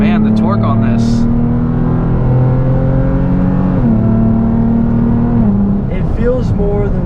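A stock Lexus GS350 F Sport luxury sedan with sound-enhancing exhaust work pulls hard under acceleration, a steady close engine drone rising and holding pitch, with people talking over it inside the cabin.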